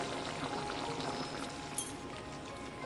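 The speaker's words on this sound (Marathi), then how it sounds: "आता याच्यामध्ये दूध टाकूया।" Milk pours into a pot of cooking sabudana kheer, a soft, continuous liquid stream at low volume with faint splashy texture and no voices.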